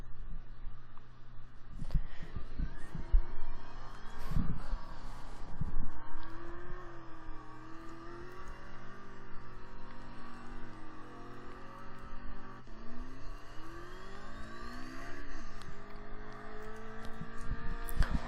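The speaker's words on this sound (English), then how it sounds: "So let's do this acceleration, the top speed test, and 0 to 60 and 0 to 100" A car in Roblox Greenville with a 6-speed gearbox accelerating hard through the gears, its engine tone climbing and dropping at each shift with a steady drone.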